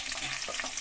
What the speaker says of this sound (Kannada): ಒಗ್ಗರಣೆ ಹಾಕೊಳ್ಳೋಣ